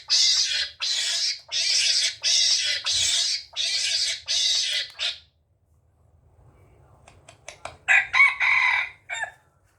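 A rooster crow plays from a remote-controlled loudspeaker as a run of loud, evenly spaced bursts, then a pause, followed by clucking-like chicken calls from the same speaker.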